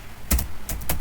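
A computer keyboard is typed on in a few quick, close, crisp key clicks.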